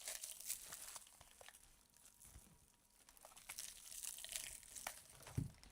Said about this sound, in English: It's like a kind of cling film like thing to protect them.